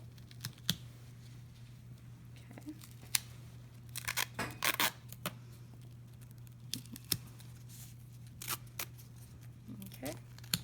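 Medical tape is torn and pressed onto a wound dressing, with several short sharp ripping and crinkling sounds scattered through the clip, close and fairly faint over a steady low hum. People talk quietly in between.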